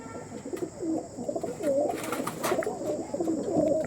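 Pigeons kept for sale, including kalshira and lalshira pairs, coo repeatedly at close range in soft, throaty, rolling calls that overlap against light background noise.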